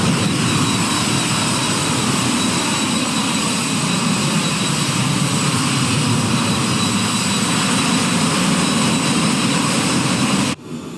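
Jet engines roar steadily as an airliner climbs out after takeoff from CYYQ in a flight simulator, a loud, broad, continuous whine and rumble that cuts off abruptly near the end, with no talk.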